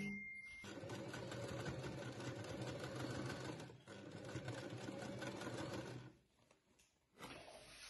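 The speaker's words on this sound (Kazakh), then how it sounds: "Енді айналдыра отырып, тігіп шығатын боламын." A sewing machine runs in a long steady burst stitching around a fabric shopper bag, with a brief pause midway and a quieter stop near the end, close and alone without talk.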